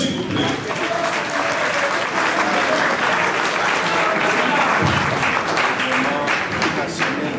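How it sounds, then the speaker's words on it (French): A political rally audience claps in dense, sustained applause for several seconds, with voices shouting and talking over the clapping. "Applaudissez s'il vous plaît."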